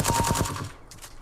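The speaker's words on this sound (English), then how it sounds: "Not really sure how all those shots missed." Rapid bursts of video game gunfire in a small prototype-style team deathmatch map, about six quick loud shots in a steady rhythm, then a brief pause and two fainter shots near the end.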